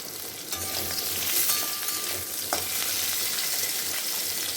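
Stalks and potato pieces frying in hot oil for a katla fish curry, a steady close sizzle with occasional stirring scrapes of a spatula in the pan, no talking.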